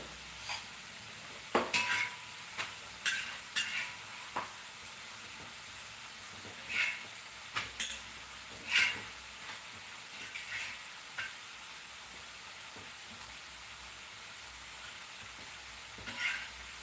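Chapati cooks in oil on a pan with a soft continuous sizzle, punctuated by sharp clinks and scrapes of a metal ladle, scattered irregularly and close, with no talking.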